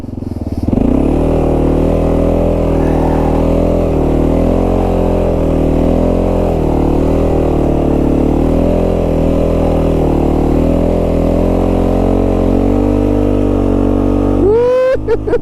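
A KLR 650 motorcycle engine revs loudly and close while the bike spins a donut, a sustained rumbling drone whose pitch wavers up and down, then rises sharply at the end.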